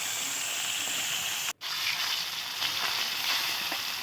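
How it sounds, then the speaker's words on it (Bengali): Rohu fish pieces frying in hot oil give a steady, close hiss that drops out for an instant midway and then resumes, crackling a little more brightly toward the end. "এইভাবে একটা প্যাক করে মাছগুলো ভেজে নেব"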